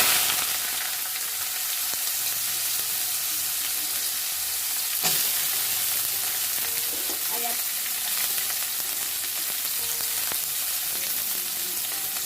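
Onions and chili fry in hot oil in a pan, a steady loud hiss and sizzle close up, with occasional stirring clinks and scrapes throughout.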